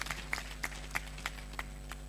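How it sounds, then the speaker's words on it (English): Faint, sparse hand claps from a small audience at a health workers' meeting and panel discussion, landing in an even rhythm about three times a second against a quiet, humming room. "A round of applause for us again."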